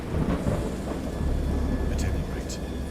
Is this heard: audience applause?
no